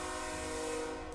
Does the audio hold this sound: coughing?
no